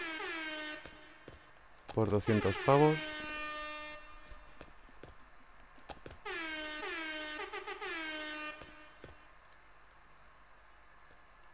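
The Fortnite Bocinazo emote blares an air horn in two clusters of rapid, loud honking blasts separated by quieter gaps, with someone narrating in between.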